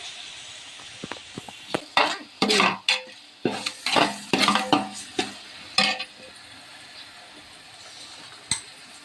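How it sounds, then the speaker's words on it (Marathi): Chopped onion and gram flour sauté in a pan, with irregular scraping stir strokes and soft sizzling bursts, fairly quiet and close. "तर ह्याला छान असं परतून घ्यायचंय."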